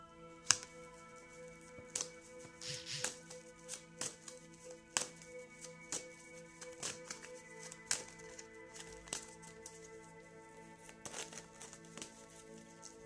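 Tarot cards being shuffled by hand during an impromptu live reading, giving a run of quiet, irregular riffling clicks and soft flicks with a few sharper snaps, close and faint, over steady background tones with no talk.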